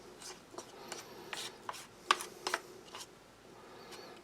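Quiet scraping and stirring of a spoon in a vegetarian field ration meal pouch with added pepper, soft irregular rubs and a few sharper clicks close by, no voices.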